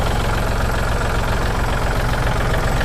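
A used Kubota L3608SP tractor diesel engine idles in a steady, close, continuous rumble with a regular low knocking pulse, no voices.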